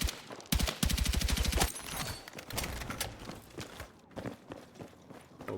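Gunfire in the video game Battlefield 6: a rapid automatic burst of shots early on, followed by a dense mix of footsteps, impacts and scattered battle noise, loud and close.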